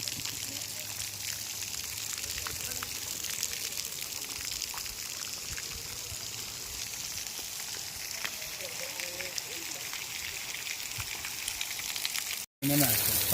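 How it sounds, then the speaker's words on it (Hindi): Water flows steadily from an automatic fountain in a garden built for a queen in Udaipur. The fountain is five feet deep and has single-stone marble elephants. It makes a continuous, close splashing rush with no pauses. "ये ऑटोमेटिक पानी निकल रहा है, देखो।"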